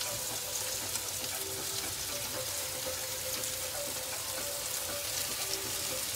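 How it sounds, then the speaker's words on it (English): Onions and mushrooms sizzle steadily on a grill beside burger patties, a constant bright crackling hiss with no pauses and no voices. "Our onions and mushrooms are getting grilled up over there."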